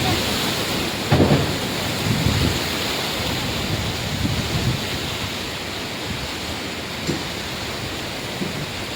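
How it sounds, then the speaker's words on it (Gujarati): Rain pours steadily during a thunderstorm with strong wind over the village of Gordka, a dense hiss broken by a few low thudding rumbles near the start and end. "વીજળી થાય છે, વરસાદ આવે છે, વાવાઝોડું"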